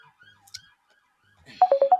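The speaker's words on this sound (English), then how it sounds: "there's a phone call coming through" An incoming phone call rings as a rapid series of about five electronic tone pulses, loud and close, after a near-silent stretch with faint background sounds.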